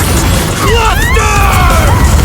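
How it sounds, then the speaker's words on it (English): An animated explosion from Bakugo's Howitzer Impact attack, a loud continuous roaring blast with sweeping whistling tones overhead, filling the whole moment without pause. "Howitzer! Impact!"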